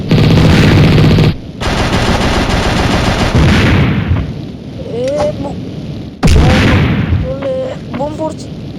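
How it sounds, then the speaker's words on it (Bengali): Video game battle with loud bursts of machine-gun fire and bombs exploding, heavy continuous blasts broken by short pauses and whistling tones, a voice talking over parts of the din. "বোম পড়ছে"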